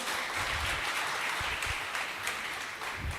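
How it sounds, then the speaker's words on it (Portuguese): Church congregation applauding during a service, a fairly quiet, steady patter of many hands clapping, distant-sounding and even throughout with no talking over it. "Pode aplaudir ao Senhor mais uma vez"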